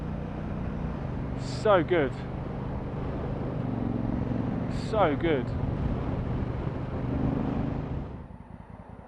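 Honda Africa Twin DCT motorcycle exhaust rumbling steadily up close, with someone speaking briefly over it twice before the engine note drops away near the end.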